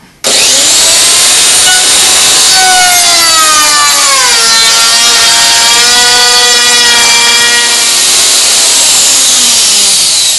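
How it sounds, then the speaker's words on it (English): A router runs around the edge of a small wooden base for a salmon woodcarving, giving a loud, steady high-pitched whine whose pitch dips and shifts as the bit cuts, continuous for about ten seconds. "Right, now we just run the router around it."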